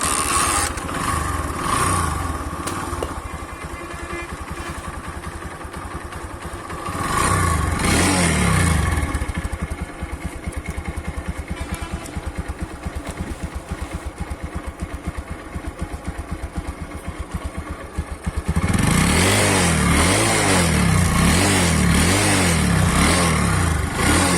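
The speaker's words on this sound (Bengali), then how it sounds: "বাইকটা এখনই স্টার্ট করে সাউন্ড শুনবো" A 125cc motorcycle engine cranks to life and runs nearby, settling into a steady idle with a rough, throbbing rhythm before revving up louder toward the end.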